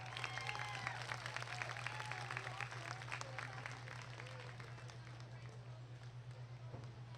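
An audience applauds at a market goat showmanship event, steady clapping from a crowd in a large hall, with a low hum underneath and a voice over the applause.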